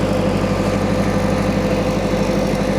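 A tractor engine chugs steadily while towing the bed of a 1980 Dodge W150 pickup to a garage, a close, continuous low idle-like rumble with no voices.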